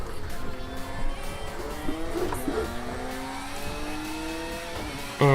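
Porsche 911 GT1-98 race car in a racing video game lapping Zolder in snow, engine revving up through the gears in repeated rising sweeps with faint tire squeal, loud and continuous.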